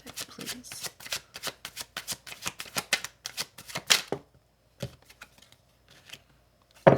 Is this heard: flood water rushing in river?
no